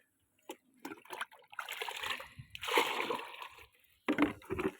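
Fruit-peel fertilizer liquid is stirred into a 20-litre water bucket, giving quiet bursts of splashing and sloshing broken by short pauses.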